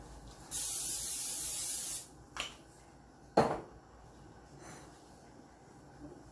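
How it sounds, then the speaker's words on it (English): A long cooking spray aerosol hisses into a bowl for about a second and a half, followed by a couple of short bumps and a dull knock against the bowl. "I'm going to spray it with cooking spray."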